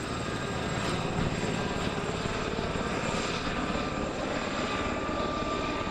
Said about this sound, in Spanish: le bruit d'un hélicoptère réveille des souvenirs